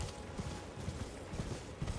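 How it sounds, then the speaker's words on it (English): Rhythmic hoofbeats of a galloping horse in the video game Elden Ring thud steadily, fairly close, with no talking. "I'm getting good on the horse"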